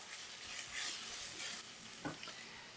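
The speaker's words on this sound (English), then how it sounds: "we're going to add in the tomato paste and the harissa sauce with the chili flakes. And we're going to give that a little stir." Tomato paste, harissa sauce and chili flakes sizzling in a pot while being stirred for chickpeas, a soft crackling fry with a couple of scraping stir strokes, fairly quiet and close.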